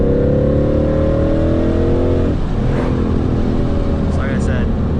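Ford S550 Mustang V8 engine rumbling loudly while cruising, its deep drone rising in pitch then settling, with a brief lighter noise near the end.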